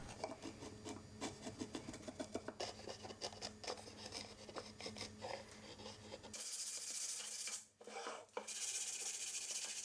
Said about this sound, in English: I finished the sanding with a 220 grit sandpaper sponge until the entire box was nice and smooth.